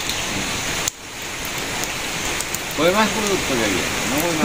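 Rain falls steadily on a village as a soft continuous patter. A sharp knock sounds early, and a voice is heard partway through.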